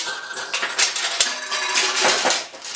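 Dense metallic clattering and rattling of steel balls bouncing and tumbling through a Nishijin pachinko machine, continuous and fairly loud with no voices.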